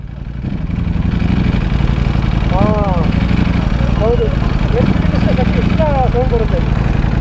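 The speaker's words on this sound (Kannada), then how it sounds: "ಸೌಂಡ್ ಚೇಂಜು ಕ್ಲಚ್ ಬಿಡ್ತೀನಿ ನೋಡ್ಕೋ ಕೇಳಿಸ್ಕೋ" Motorcycle engine idling steadily and loudly throughout, its note shifting as the clutch is let out, with a bird chirping in the background and no talk in the clip.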